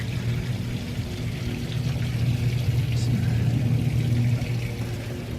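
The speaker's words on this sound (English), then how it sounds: "see all the water running out of the back" Steady pouring and splashing water drains continuously out of the back of a trailer over a low engine hum, with faint voices in the background.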